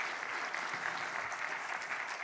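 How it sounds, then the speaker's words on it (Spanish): Church congregation applauding, a dense, even patter of many hands clapping, somewhat distant and soft, sustained without a break. "Den un aplauso al Señor."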